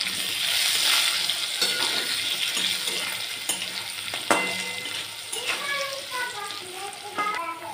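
Ground dried chili, coriander and cumin fry in a pan while being stirred, a dense close sizzle with repeated scraping and clinking strokes of a utensil against the pan.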